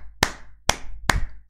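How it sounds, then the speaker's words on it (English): Hands clap three times, loud and close. The sharp claps are evenly spaced, with short pauses between them and no talking. "Give yourself a big applaud, Muslims."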